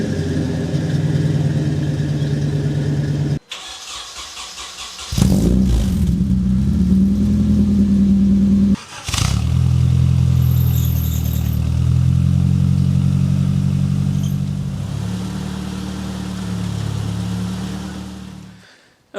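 Car engines idling and revving inside a garage as a Nissan 200SX and other vehicles, including a ramp truck, are moved about, loud and close with abrupt cut-offs and restarts and a steady rumbling drone.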